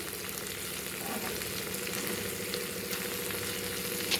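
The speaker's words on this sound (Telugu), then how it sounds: "వెల్లుల్లిపాయ కారం వేసుకున్నాను. చక్కగా దీన్ని ఫ్రై కానివ్వండి." Garlic chili paste sizzles and fries in a pan, a steady close crackle with no speech over it.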